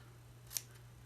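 A single crisp snip of scissors cutting glue-backed paper during a craft session, one short bright cut in a quiet room.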